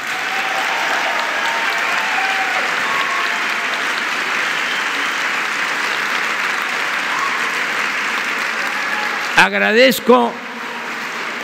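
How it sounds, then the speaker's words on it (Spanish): Loud, continuous applause from a large audience at an official ceremony honoring Pan American athletes and coaches, a dense wash of clapping that holds steady, with a brief spoken word breaking in near the end. "un aplauso muy fuerte a sus familias por todo lo que hacen"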